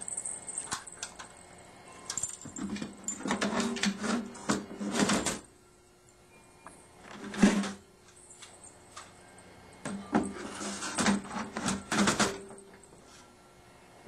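Dynafold DE-8 automatic paper folder being adjusted as its front and back plates are turned around, giving bursts of rattling, clicking metal-and-plastic handling noise in several separate clusters with pauses between, close and moderately loud, without talk.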